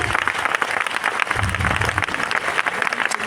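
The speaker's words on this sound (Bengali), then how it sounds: "একটু ওনাদের জন্য হাততালি দিন।" An audience claps for achievers called up on stage at a gathering, a dense, steady burst of applause from a crowd, with a voice briefly heard over it.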